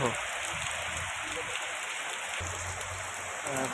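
Heavy rain during Durga Puja in Kolkata, a dense steady hiss of downpour with no break, loud and close, with faint low rumbles beneath.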